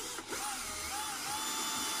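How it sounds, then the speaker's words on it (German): An electric drill bores through a clamped plastic lid, a steady whirring grind that runs continuously at close range after a brief dip at the start. "Ich benutze die Bohrmaschine und mache es mir hier ein bisschen dran fest mit einer Klemme"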